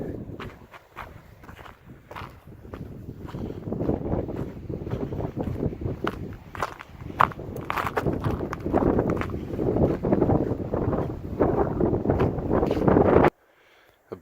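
Steady wind gusts buffet the microphone on a cold winter day, with rustling and crunching footsteps on a partly snowy trail at Garden of the Gods, Colorado, cutting off abruptly at the end.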